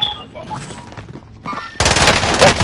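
Gunfire from the Warzone video game: muffled scattered shots, then a loud, dense burst of rapid fire that continues to the end.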